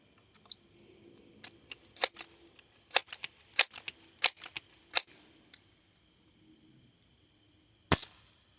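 An Air Venturi pellet pen fires a run of sharp, dry snaps, about a dozen irregularly spaced clicks over several seconds, then a pause and one louder final crack, close and alone with no talk.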